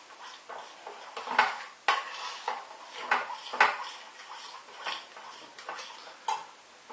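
A spoon stirs chicken curry with peas in a pot, scraping and clinking against the metal in an irregular rhythm of close, fairly soft strokes with no talking.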